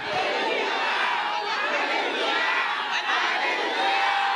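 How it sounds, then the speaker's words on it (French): A church congregation at a Christian ministry service shouts alleluia together, a loud, sustained wall of massed voices filling the space for several seconds without a break. "Au nom de Jésus, crie alléluia 3 fois."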